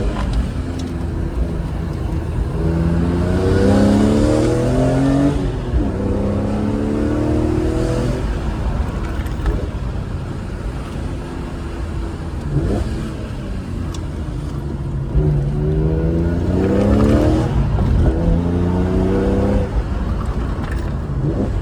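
A BMW E46 M3 engine, lowered on new H&R springs, drones steadily, then repeatedly climbs in pitch as it revs and accelerates through the gears, loud and close throughout.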